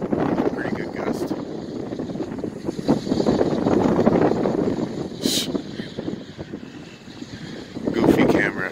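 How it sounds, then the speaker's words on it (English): Gusting wind of about 15 to 18 mph roars across an 800 watt wind turbine, a loud, rushing wash that swells and fades over several seconds with no speech. "pretty good gust."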